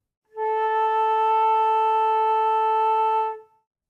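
One steady flute note, A natural in the first octave, held for about three seconds at even loudness with a clean onset and a quick release, played close and alone.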